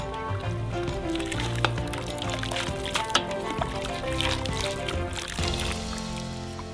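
Hot broth splashes and trickles over the skin of a second whole duck, wet pouring and dripping sounds with a few sharper splatters, close and steady, no talk.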